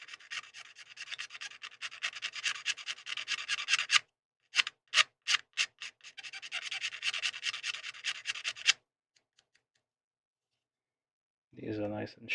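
A blade edge scraping a small plastic model part for a 1/700 Space Submarine I-401 kit, rapid rasping strokes in two long bursts separated by a few short single scrapes, followed by silence and then a voice speaking.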